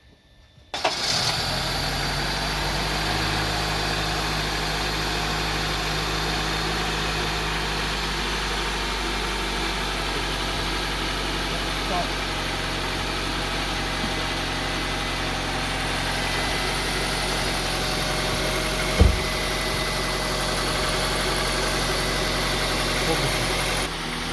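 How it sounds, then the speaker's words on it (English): A Honda CR-V with a 2.4L engine cranks and starts right after an oil change, then settles into a steady, even idle that runs on without a break, with one brief knock partway through. "start the engine, let it run for about 30 seconds or so"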